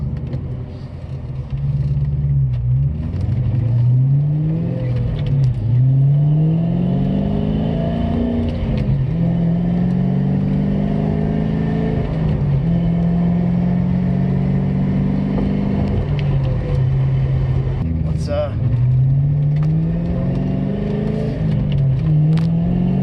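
A 1997 Cobra engine revs up and shifts through gears repeatedly while driving with the top down, a loud close rumble rising and falling in pitch.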